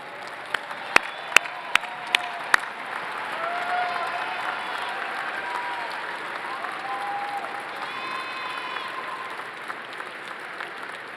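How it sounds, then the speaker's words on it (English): A large crowd at a fall graduation commencement ceremony applauds steadily, with a few sharp nearby claps at the start and sustained clapping that fills the hall. "please stand and join me in a round of applause for all of these special people"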